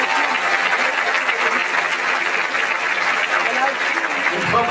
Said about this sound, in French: Je vais donner un applaudissement pour eux,